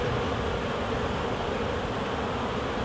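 Honeybees crowd the entrance of a spring hive in the UK, many carrying pollen, and their buzzing makes a steady, dense hum that holds close and unbroken throughout.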